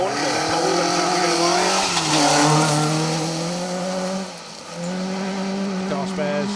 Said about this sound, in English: Mark II Escort running in the W11 class